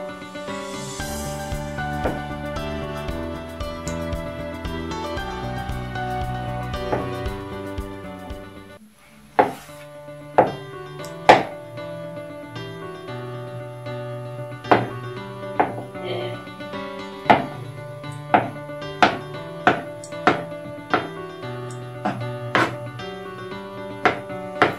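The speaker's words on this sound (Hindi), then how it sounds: "इसको हमें छोटे छोटे पीस करके काटने हैं।" A knife chops peeled boiled eggs into small pieces on a board with a string of sharp, close taps, irregular at first and then quicker, over steady background music.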